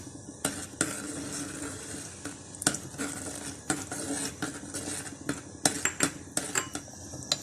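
A metal spoon stirs Schezwan sauce thickened with cornflour in a pan, sharp clinks and scrapes against the cookware at irregular intervals over a soft bubbling background, close and clear with no talking.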